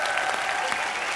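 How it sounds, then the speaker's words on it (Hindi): Steady applause from the studio audience of The Kapil Sharma Show, a live television comedy show, dense and even throughout a brief moment, with no voices over it. "जोरदार तालियां"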